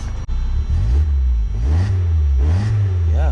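A Mazda Miata engine cranks, catches and settles into a loud, close idle that runs slightly rough, with a few uneven surges in engine speed over a few seconds.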